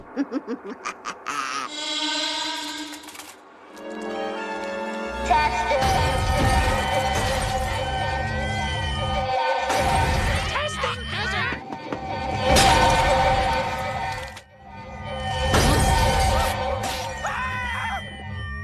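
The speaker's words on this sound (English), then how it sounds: "prank shattered every last bit of glass in town" Repeated bursts of shattering glass crash amid loud music, shouting and chaotic noise, several crashes spread over the scene.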